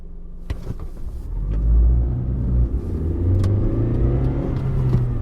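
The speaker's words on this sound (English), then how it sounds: "directed us into a waiting car that drove us across town" A car driving in an audio drama, its engine rumbling and revving up steadily, close and loud with no talk over it.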